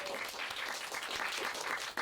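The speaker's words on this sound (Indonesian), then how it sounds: "Tepuk tangan dulu dong." Steady applause from a crowd, dense and continuous clapping throughout, fairly loud with no voices standing out.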